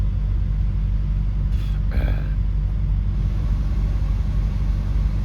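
A truck's EPU auxiliary power unit runs with a steady low, rumbling drone, close by and unchanging, with a brief faint rustle partway through.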